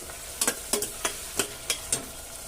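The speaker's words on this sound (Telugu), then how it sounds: "ఉల్లిపాయలు అయితే ఒకసారి కలుపుతున్నాం" Onions with spices fry in a pan for mutton bagara rice, with about seven sharp, evenly spaced scrapes of a spoon stirring them over a steady sizzle, close up and with no talk.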